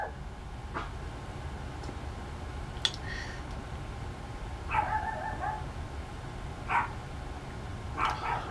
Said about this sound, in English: the dog just barks because they are stupid